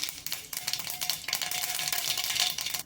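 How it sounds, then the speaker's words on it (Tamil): Crackling, popping sizzle of mustard seeds spattering in hot oil, busy and irregular, fairly close with no talking. "எண்ணெயும் பார்த்திங்கன்னா நல்லா சூடாயிடுச்சு. இப்போ கடுகு போட்டுக்கலாம்."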